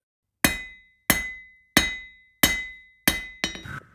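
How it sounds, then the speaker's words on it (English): Five evenly spaced hammer blows on metal ring out sharply, followed by a quicker double strike and a rattling clink, close and loud with no speech. "And then hammering it again."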